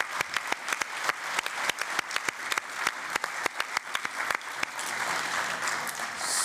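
A conference assembly in a plenary hall applauds, distinct hand claps ringing out in a fairly quiet, spread-out rhythm that thickens into a fuller wash of clapping near the end.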